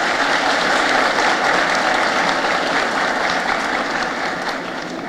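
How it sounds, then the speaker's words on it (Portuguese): A crowd at a children's choir festival concert in Natal claps in steady, continuous applause that stays loud throughout and tapers slightly toward the end. "Uma salva de palmas para o seu Luiz."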